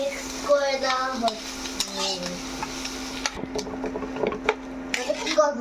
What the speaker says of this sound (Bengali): এবার সমস্ত সবজিকে খুব ভালো করে মিক্স করে নেওয়া হচ্ছে